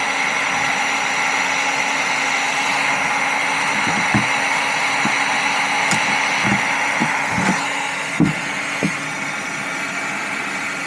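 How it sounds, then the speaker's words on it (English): A heat gun blows on a plastic edge, giving a constant whooshing hum with a few soft, scattered thumps underneath. "I'm gonna use a heat gun."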